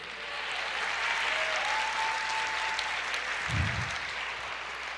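A church congregation applauds during a Portuguese-language sermon, steady dense clapping filling the room at a moderate distance, with a faint tone and a low thump briefly underneath.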